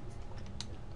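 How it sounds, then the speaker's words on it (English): A single quiet click of an F4 key pressed on a computer keyboard, a brief close tap alone in a quiet room. "so I hit my F4 key"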